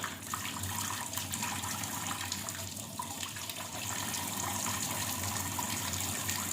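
Water pours from a kitchen tap into a clogged sink drain that has been dusted with drain cleaner powder, making a continuous close gushing and splashing that runs steadily throughout.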